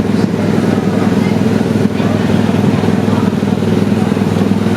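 Car engine revving and accelerating while driving on a road, a steady loud mid-pitched drone that holds throughout, with voices talking over it.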